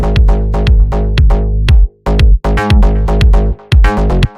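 Kick drum and bass line in an Italo house track, dry and without saturation, pounding in a steady driving rhythm with brief dropouts, loud and up front.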